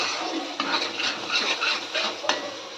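Cashew seed gravy being stirred and fried in a pan, soft scraping and gentle sizzling with occasional light clinks of a spoon against metal, close and steady without talk.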